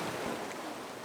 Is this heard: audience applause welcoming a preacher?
no